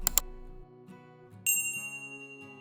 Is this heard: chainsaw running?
no